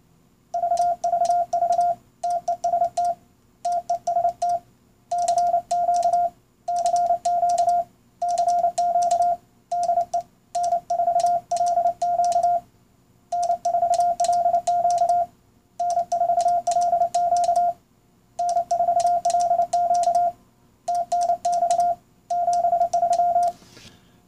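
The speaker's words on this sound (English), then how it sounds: "You can tap out Morse code on it." Steady sidetone beeps from Morse code keyed with a paddle into a cheap eBay CW decoder, sounding as a single clear pitch in short bursts and longer groups with brief gaps, loud and alone with no talking.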